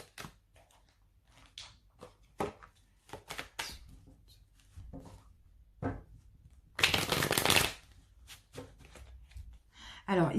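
Tarot cards riffled and shuffled by hand, a run of soft papery flicks and taps, with a longer, louder burst of rapid shuffling partway through.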